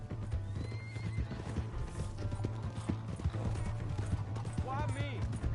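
Horse neighs and hooves clip-clop in the Red Dead Redemption 2 video game, whinnies rising over steady hoofbeats, with loud game music and voices talking throughout.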